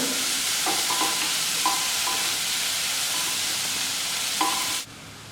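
Onions sautéing in a hot pan, a loud, even sizzle with several soft scraping stirs, cutting off abruptly near the end, no voices.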